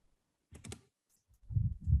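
A few quick keyboard clicks from someone typing a code into HR software, followed by low thumps, fairly faint and close.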